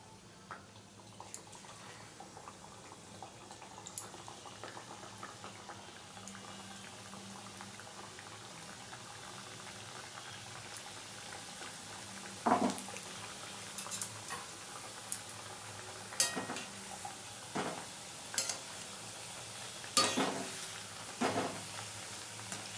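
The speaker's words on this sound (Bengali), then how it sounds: "তেল গরম হয়ে গেছে, আমি এবারে একে একে সুজির বিস্কুটগুলো ছেড়ে দিচ্ছি।" Homemade semolina biscuits deep fry in hot oil with a soft, steady bubbling sizzle. Sharper pops and crackles grow more frequent toward the end, with no voices.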